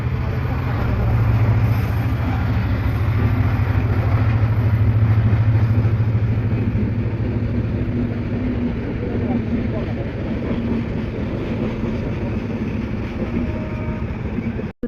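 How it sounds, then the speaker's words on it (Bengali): Train passing at Atrai near Ahsanganj, a steady low rumble and wheel roar that stays loud and close for the whole stretch before cutting off abruptly. "আর যেতে যেতে কিন্তু ট্রেন চলে এসছে"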